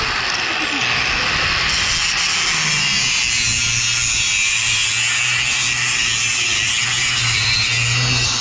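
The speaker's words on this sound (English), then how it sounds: "I think I'll use angle grinder, be a little faster." An angle grinder cuts metal, producing a loud, continuous, harsh whine and hiss that holds steady from start to finish, with a brief falling tone at the very beginning.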